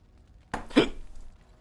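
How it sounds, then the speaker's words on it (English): A single hiccup-like gasp from a man, a short sharp catch of breath followed by a slightly longer voiced burst, fairly close and alone against quiet background. "Oh, hiccups."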